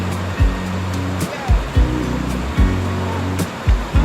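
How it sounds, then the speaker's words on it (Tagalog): River water rushes in a steady, loud broadband wash, with rhythmic low thumps recurring about once a second over it and no talk. "Dito tayo sa ilog, men! Nako! Ang ganda ng ilog!"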